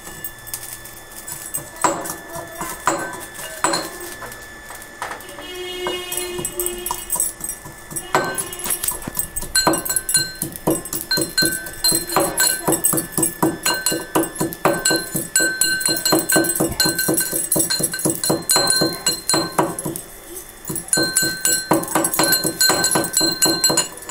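Garlic cloves and green chilies pounded together, a steady run of sharp, clinking strikes repeating in a fast rhythm for the whole stretch, close and fairly loud with no voices.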